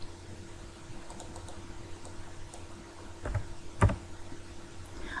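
A few keystrokes on a computer keyboard enter a number, sparse light clicks with one sharper tap near the end over a faint steady hum.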